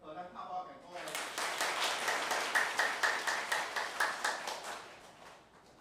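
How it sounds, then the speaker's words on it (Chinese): A church congregation at a Taiwanese-language worship service claps together in a quick, even rhythm of many hands for several seconds, after a brief bit of speech. "咱拍手敬鼓励。"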